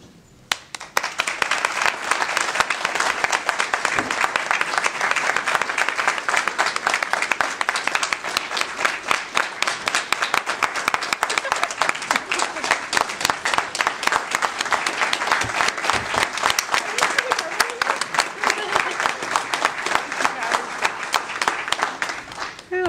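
Sustained audience applause at a Tulsa Public Schools board of education meeting, a dense, even clatter of many hands clapping for over twenty seconds, fairly loud and without talk.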